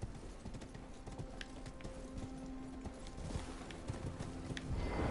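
Horse hooves clip-clop in a steady rhythm through the Elden Ring video game, moderately close over a soft ambient background, continuing throughout.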